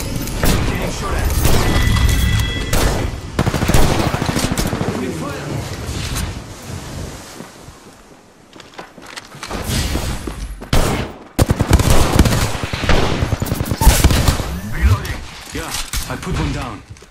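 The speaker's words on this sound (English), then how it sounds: "Getting shot at." Halo gunfire in a loud, chaotic firefight: dense bursts of shots and booming blasts that rise and fall, with a short lull partway through, as voices talk over the battle.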